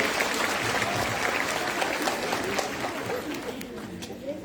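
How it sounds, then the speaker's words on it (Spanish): A crowd at a Spanish-language panel discussion applauds a speaker with dense, sustained clapping, with murmuring voices and chatter mixed in that ease off toward the end. "Un aplauso, por favor, para nuestro compañero."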